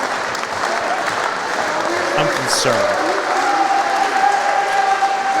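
Audience at a wrestling reunion show claps steadily and loudly throughout, with voices talking over the applause and a few shouts rising from the crowd.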